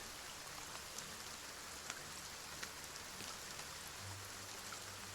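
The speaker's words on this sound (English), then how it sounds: "God, that rain's going to send me to sleep in a minute. Can't hear nothing else but the rain." Rain pours in the strategy game Table Top Tavern as a dense, even hiss that fills every moment, with faint scattered clicks and no speech over it.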